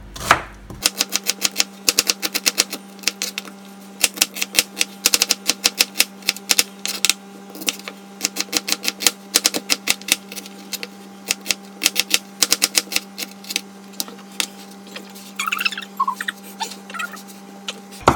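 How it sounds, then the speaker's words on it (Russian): Rapid, rhythmic knife chops of an onion on a cutting board, crisp close taps in quick bursts with brief pauses, no talking. "Лук нарезаем обыкновенно крошкой."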